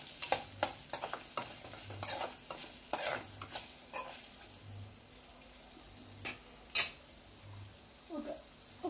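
Sliced onions and green chillies fry in a pan for tamarind rasam, a steady low sizzle with occasional stirring scrapes and clicks, fairly quiet and close, no talking.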